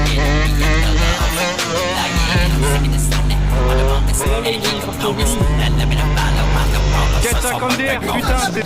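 A KTM motorcycle engine hammers against the rev limiter at a bike meet, loud rapid bursts of high revs that cut out and restart several times, with chopped stuttering drops between pulls.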